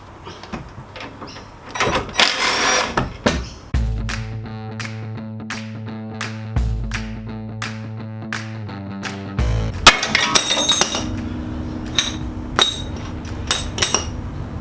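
Metal tools working loose the nut on an original car sway bar link: sharp clanks and metallic knocks, then a steady grinding ratchet-like buzz in the middle and more scattered clinks near the end, close and fairly loud with no talk.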